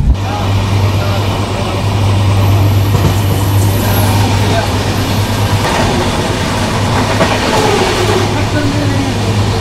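The 22317 Sealdah–Jammu Tawi Humsafar Express runs steadily with a loud, continuous rolling rumble and a low droning hum throughout, heard from close by.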